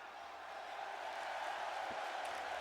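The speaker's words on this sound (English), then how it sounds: "The crowd on their feet," A wrestling crowd roars in a steady, broad wash of cheering and applause that fills the arena, continuous and fairly distant, with no single voice standing out.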